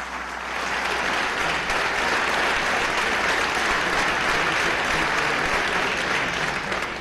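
A large assembly gathered in a national constituent assembly session bursts into sustained, dense applause, loud and even throughout with no talk rising above it.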